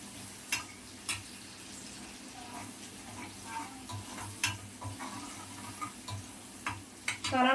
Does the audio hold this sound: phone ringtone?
no